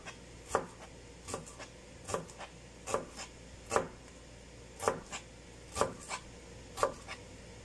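A knife chops through onions on a cutting board, part of slicing a kilo of onions, with sharp, fairly regular knocks about once a second, close and distinct over a faint background.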